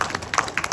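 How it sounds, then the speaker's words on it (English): Scattered applause from a comedy show audience in Ridgecrest, a brief burst of claps and taps rising and falling in a noisy room. "Give me a round of applause."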